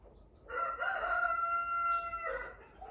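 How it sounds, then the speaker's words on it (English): A single loud, drawn-out rooster crow rings out close by in a farm shop, lasting nearly two seconds before trailing off into quiet. "Both the roosters are here."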